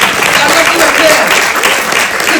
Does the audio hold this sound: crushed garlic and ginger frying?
no